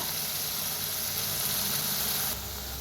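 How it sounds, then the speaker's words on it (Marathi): Spice masala roasts in a pan with a steady, close broadband sizzle and hiss that holds evenly, then drops a little in level near the end, with no talk over it. "तर मसाला छान असा भाजून घेऊया"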